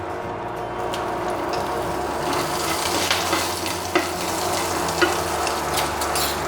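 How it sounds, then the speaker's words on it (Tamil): Curry leaves and mustard seeds crackle in hot oil while making black chana sundal, a steady close sizzle with a few small pops and stirring scrapes throughout. "அடுத்தது கருவேப்பிலையை கிள்ளி போட்டுக்கலாம்."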